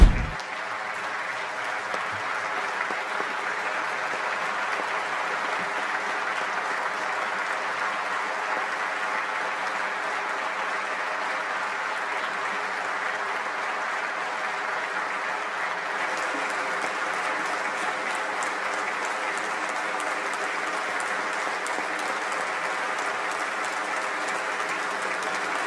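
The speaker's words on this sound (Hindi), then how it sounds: "महमूद अब्बास का वीवीआईपी तरीके से तालियां बजाकर स्टैंडिंग ओवेशन देकर स्वागत किया गया था" Sustained applause fills the Turkish parliament during a standing ovation, a dense even wash of many hands clapping from start to finish, steady and unbroken, with no voices standing out above it.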